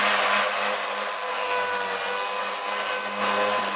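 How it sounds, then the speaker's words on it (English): Car side skirts for a Nissan 240SX are sanded in a workshop, giving a steady, loud, continuous abrasive whir that holds an even level throughout, with no voices. "is sanding some skirts over here"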